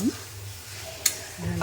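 Raw green peas fry in a pan with a soft, continuous sizzle while a utensil stirs them, with one sharp scrape or clink midway and low kitchen sounds around it.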